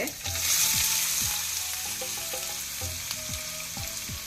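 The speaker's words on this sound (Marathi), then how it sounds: "तेल आनी तूप ऊन जाल्ल्यांत ताका 4 पियाव बारीक कोसोर करून घालचे." Finely chopped onions frying in hot oil and ghee give a loud, steady, close sizzle, with soft spoon knocks and scrapes recurring throughout and no talking.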